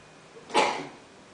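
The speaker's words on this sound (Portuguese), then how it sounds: "Desculpa pelo espirro" A single sudden sneeze bursts out once, close and fairly loud, then fades into quiet room tone.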